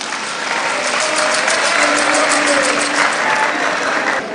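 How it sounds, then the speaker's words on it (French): A crowd at a biennale launch event in Guinea applauds the president with loud, dense, sustained clapping that fills the whole stretch, with faint voices mixed into the ovation. "que je vous prie d'acclamer"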